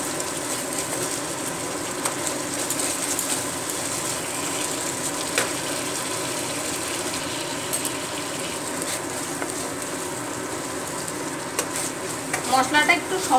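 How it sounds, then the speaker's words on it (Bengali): A spice paste fries in a pan for a jackfruit curry, giving a continuous close sizzle with stirring throughout. Low background hum sits beneath it, and a few sharper crackles come near the end. "মশলাটা একটু সময় নিয়ে মশলাটা একটু কষাতে হবে।"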